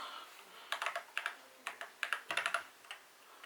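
Typing on an Attack Shark K75 mechanical keyboard: crisp, close keystroke clicks in irregular bursts, some rapid clusters and short pauses, with no speech.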